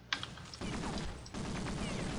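An M249 machine gun firing in the online shooter Counter-Strike Online, heard as two sustained bursts of rapid automatic fire with mechanical clatter, moderately loud and close.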